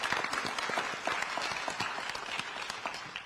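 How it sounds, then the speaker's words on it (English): Brief, fairly quiet applause ripples through the audience at a hip hop music festival event in Cincinnati, with individual claps audible in an uneven, sustained patter. "if we can give him a round of applause"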